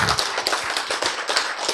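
Audience clapping during a lecture, a quick run of distinct claps in an even, brisk rhythm, fairly close and moderately loud for a couple of seconds.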